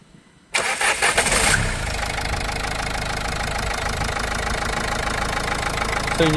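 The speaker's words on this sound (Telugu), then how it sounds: "ఒకసారి ఇంజిన్ స్టార్ట్ చేస్తాను" A 2015 Renault Lodgy RxZ diesel seven-seater cranks and fires up after a brief quiet moment, then settles into a steady, loud, close diesel idle with a slight knocking clatter throughout.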